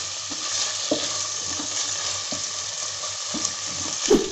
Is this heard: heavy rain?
no